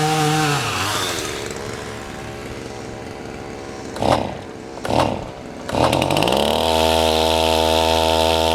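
A chainsaw with its compression release engaged runs loud and close while felling a huge blown-down oak. It idles roughly with a couple of brief revs near the middle, then surges into a steady high roar to the end.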